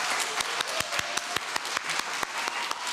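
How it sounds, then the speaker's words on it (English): Audience applause for panellists at a peasants' movement gathering, a quiet-to-moderate crowd clapping with several sharp, distinct claps popping out of a steady bed of hand noise over three seconds. "can we just get a round of applause for our panellists?"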